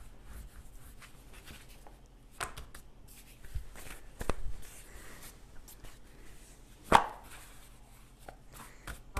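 A knife cuts rolled-out manti dough into strips on a floured mat or counter, with soft, scattered taps and scraping strokes, quiet and close, one sharper knock standing out midway.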